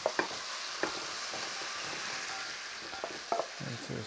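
Shredded crispy chilli beef tossed through sauce in a pan, with close clacks and scrapes of the utensil at irregular intervals over a low, steady sizzle and no voices.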